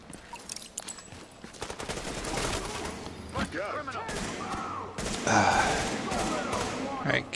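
Small arms gunfire crackles in The Division video game: repeated bursts and single shots, loud and close, spread across the whole stretch alongside other battle noise and a few brief voices.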